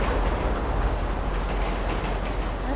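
Train riding on tracks in GTA V, moving fast: a continuous loud rumbling roar with a faint steady clatter of wheels over rails throughout, no talk.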